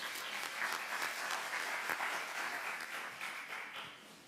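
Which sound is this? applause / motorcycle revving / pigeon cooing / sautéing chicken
applause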